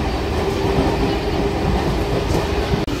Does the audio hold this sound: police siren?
no